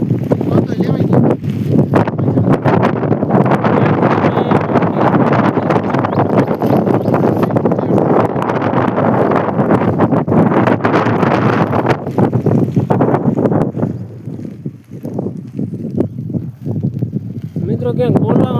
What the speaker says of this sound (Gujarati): આમ પવન એવડો આવતો હોય ને.